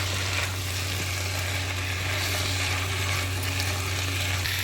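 Paneer pieces frying in a pan give a steady, dense sizzle that runs unbroken at even loudness throughout, with a low hum beneath.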